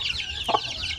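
Native chicken chicks peep in rapid high chirps, with a short lower cluck in the middle, close and moderately loud over about a second.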